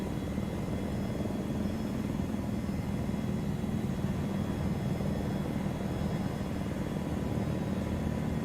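Helicopter flying in a Combined Arms video game, a sluggish aircraft giving a continuous loud rotor and engine drone at steady level throughout, with no talking.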